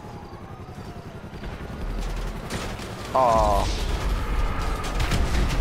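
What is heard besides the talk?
explosions and gunfire in video game Grand Theft Auto V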